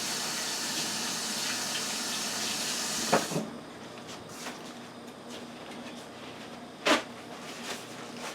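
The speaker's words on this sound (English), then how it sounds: "Let me wash my hands." Kitchen tap water runs steadily while someone washes their hands, a broad close hiss that cuts off after about three seconds, leaving quiet room noise broken by a couple of sharp knocks.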